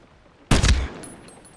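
A single loud, close burst of OBR 5.56mm rifle fire in the shooter game Medal of Honor Warfighter, a sharp crack with a short booming tail that fades over about a second.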